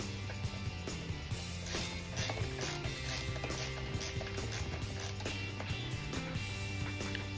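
A ratchet tightening something down on the inside makes steady mechanical clicking close by, layered over a continuous background hum, with no voices.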